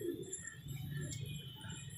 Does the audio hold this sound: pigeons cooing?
yes